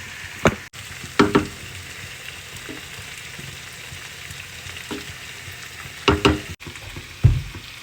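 Chicken frying with turmeric and chili powder in a pan, a steady low sizzle broken by a handful of sharp scrapes and clacks as the pieces are turned, with no talk.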